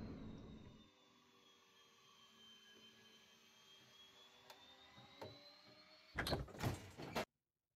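An aircraft door closes in an Embraer Legacy 650 flight simulator, with a steady whining hum running underneath and then a loud rattling burst near the end that cuts off abruptly to silence.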